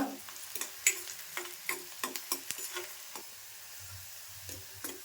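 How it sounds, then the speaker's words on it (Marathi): Onion frying in a pan while being roasted until it browns, with a soft sizzle under repeated spatula taps and stirring clicks, fairly quiet and close. "कांदा व्यवस्थित एकदम भाजून घ्यायचा चांगला कलर बदलेपर्यंत"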